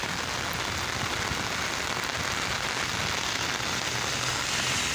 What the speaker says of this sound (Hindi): अच्छी खासी तेज़ बारिश।